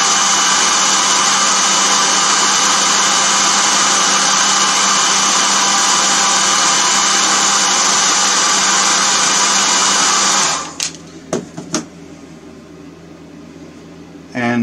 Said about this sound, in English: so that's why I'm using a hairdryer